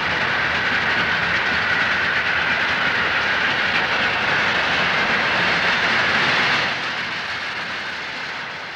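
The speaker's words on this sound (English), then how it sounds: "an eastbound passenger train makes a stop." A loud eastbound passenger train on the Nickel Plate Road at South Whitley rumbles steadily close by, wheels and engine droning continuously, then gradually easing off as it slows to a stop.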